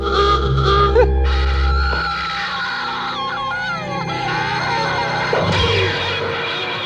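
Alarm sound effect from the horror movie Cannibal Girls, a loud low blaring tone opening the clip, then warbling, wavering siren-like tones and cries over a busy, noisy background.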